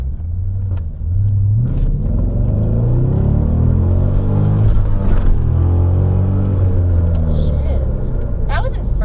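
A 400 HP V8 manual car accelerating hard in first gear, its deep engine rumble rising steadily from inside the cabin, with people talking over it.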